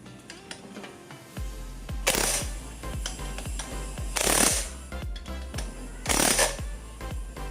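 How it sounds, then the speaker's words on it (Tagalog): A budget impact wrench hammers on a steel bolt threaded into an aluminum crankcase, firing three loud rattling bursts between quieter clicks and taps, with no talking. "So, very useful yung ating impact wrench na nakuha."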